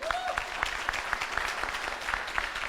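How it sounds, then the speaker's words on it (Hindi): A crowd applauds with steady, rhythmic clapping that keeps an even beat throughout. "इनके लिए भी जोरदार ताली बजाई"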